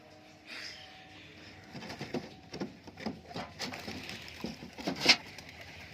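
Giribaz tumbler pigeons coo softly and patter in a loft, giving low, irregular murmurs and wing flutters, with a sharp chirp near the end.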